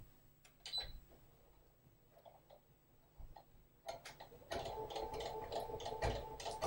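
An embroidery machine stitches a pin tuck over cording with twin needles, starting with faint ticks and clicks, then settling into a close, steady rapid whir of stitching.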